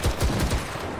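Gunfire in a Roblox game comes as a quick burst of four or five loud, close shots in rapid succession, then a fading rumble.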